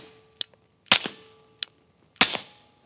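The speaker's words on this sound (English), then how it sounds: "let's shoot the rest and kind of see how that goes" Four sharp pistol shots from a PSA Dagger fitted with a heavy recoil spring, fired outdoors in two pairs, each a smaller crack followed by a louder, ringing report, loud and close with short decays between.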